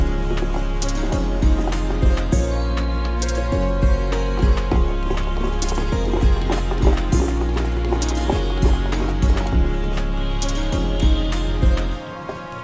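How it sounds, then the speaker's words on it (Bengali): Mango malpua batter with added milk is whisked vigorously in a bowl, giving loud, close, rhythmic beating strokes at a steady pace until they stop abruptly near the end. "দুধ দেওয়ার পর এবার পাঁচ থেকে সাত মিনিট খুব ভালোভাবে ফেটিয়ে নেব"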